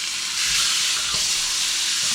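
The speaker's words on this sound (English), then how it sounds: "we're gonna add our pork chops back" Pork chops hit melted butter in a hot pan, a loud dense hissing sizzle that holds steady and close throughout, with a faint low clunk midway.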